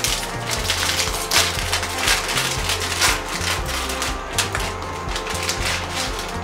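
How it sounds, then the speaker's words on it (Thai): Close-up crinkling and tearing of a plastic Paldo Volcano Korean instant noodle packet, with crackly rustles and sharp rips coming in uneven bursts. "แกะซองบะหมี่"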